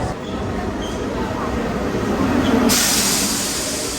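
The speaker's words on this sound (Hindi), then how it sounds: "हम लोग अभी रोम की मेट्रो लेने वाले हैं। यहाँ का मेट्रो बहुत ही छोटा है" An underground metro train in Rome rumbles and hisses steadily, with a bright rushing swell toward the end as it moves through the tunnel.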